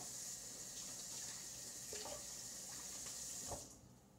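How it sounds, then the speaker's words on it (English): Tap water running over hands at a sink, a steady faint hiss of flowing water with small splashes, which thins out and stops near the end. "let me just clean my hands"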